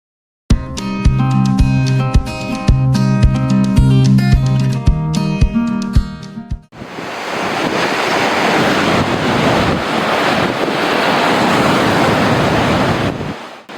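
Ocean waves on the East Sea coast at Deokbongsan, Samcheok, a continuous rushing surf with wind noise, loud and close, taking over after an opening stretch of musical tones.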